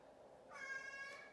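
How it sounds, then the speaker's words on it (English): A pet cat named Binks gives a single soft, drawn-out meow indoors, quiet and close, with no talking over it. "My cat wanted to come in and say hey."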